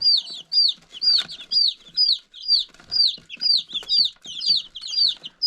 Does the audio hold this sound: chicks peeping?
yes